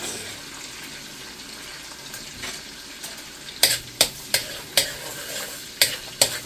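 Garlic sizzles in Star margarine butter in a pan for pork asado, a steady frying hiss broken in the second half by a series of sharp stirring scrapes and clacks from a utensil against the pan.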